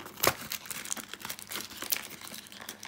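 A KeyForge booster pack's wrapper is torn open and crinkled, giving close, continuous crackling with sharper tearing bursts throughout.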